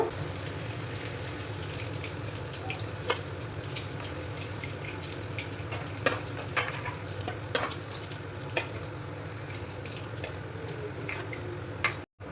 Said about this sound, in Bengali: আমি বাকি পনিরগুলো একইভাবে ভেজে নেব